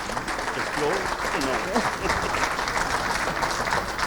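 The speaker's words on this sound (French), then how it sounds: "Merci à vous, on peut les applaudir." An audience at a conference on forest fire defence and fire services applauds steadily, a sustained wash of clapping with a few voices mixed in.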